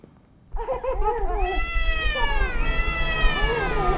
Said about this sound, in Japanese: 子供の声と猫の鳴き声か